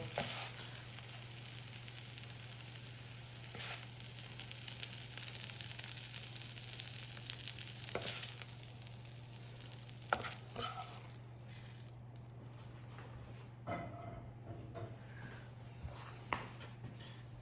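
Browned pork sizzles steadily in a hot pan while being stirred, with scraping and clinking utensil sounds breaking through the constant frying hiss; no one talks.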